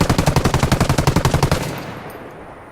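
Loud, close machine gun fire from a Vietnam War video game rattles off in one rapid burst of about twenty evenly spaced shots lasting a second and a half, then fades away in an echoing tail with no talk.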